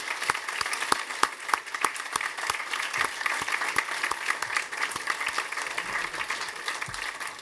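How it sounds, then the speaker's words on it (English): A small audience at a policy panel discussion on the UK's Integrated Review after Afghanistan applauds with sparse, distinct individual claps that go on steadily for several seconds before thinning out. "I also like it when panellists applaud themselves, like the Soviet Politburo"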